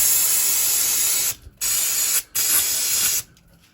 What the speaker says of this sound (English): So just a bit of brake cleaner to spray on there.